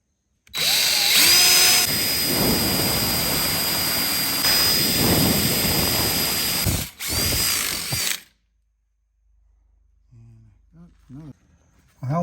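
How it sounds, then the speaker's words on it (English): A power drill bores holes into the metal of a fuel tank filler on a V8 Pinto fuel cell. It whines loudly and nearly nonstop for several seconds, then cuts off abruptly, leaving quiet and someone talking briefly. "I put some marks where I need to drill some holes to put the new screws."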